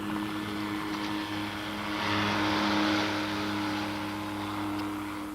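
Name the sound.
voice imitating a helicopter propeller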